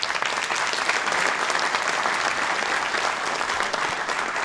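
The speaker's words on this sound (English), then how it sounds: "Let's give him a round of applause." Dense, steady round of applause from an audience at a General Contractors Association of New York event where Governor Hochul speaks, sustained at even loudness throughout with no speech over it.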